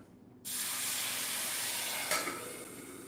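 A sudden loud hiss bursts in and holds steady as a little water hits a hot pan of eggs and steams, with a brief flare near the end.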